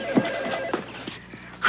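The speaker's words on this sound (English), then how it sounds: "There's my phone." A telephone ringing in a 1988 sitcom episode, short repeated bell trills sounding close and clear, with a brief burst of noise at the end.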